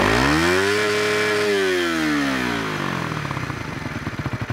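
Suzuki Raider R150 underbone motorcycle, a 150cc engine, revving loud and close: a sustained high rev rises and falls, then settles into a lumpy, pulsing idle.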